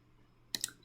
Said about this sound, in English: Just keep clicking next